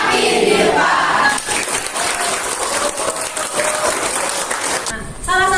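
A crowd claps and cheers loudly, with shouts mixed in, before a voice cuts in near the end.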